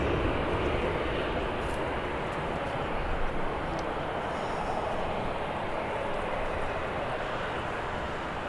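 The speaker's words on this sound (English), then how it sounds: "Ryanair getting ready to depart" A Ryanair jet departing at Birmingham airport gives a steady, broad roar that holds at an even level throughout, dense and continuous with no pauses, and no voices come through it.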